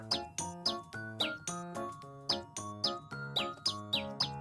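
Rhythm-game bird chirps ring out as bright tweets, each on a steady beat with a chiming tone, about two per second, clean and close with no talking.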